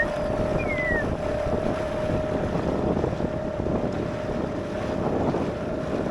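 A custom alloy pontoon dinghy moves on a river, with a steady motor drone under wind noise buffeting the microphone and a faint high whine, continuous and close, no speech.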